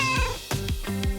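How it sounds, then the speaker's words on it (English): Meows from a cartoon cat in a cat video game, three drawn-out cries in a row, loud and close with bright harmonic tones, no talking over them. "And this kitty is hungry, people."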